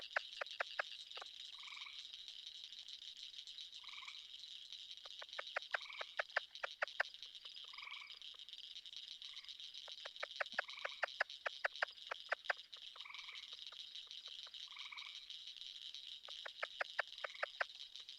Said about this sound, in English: So all the clicking is cricket frogs.